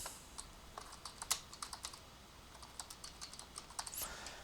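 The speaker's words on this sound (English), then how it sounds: "So I can type in an email." Quick, light keystrokes on a computer keyboard while an email is typed, a steady patter of close clicks with small pauses and no voices.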